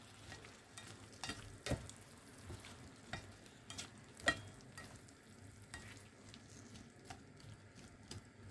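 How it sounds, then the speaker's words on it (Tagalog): Bitter gourd (ampalaya) fries in a pan while being stirred, a faint sizzle under scattered clinks and scrapes of the utensil against the pan, with no talking. "Lagay ko na guys yung ampalaya."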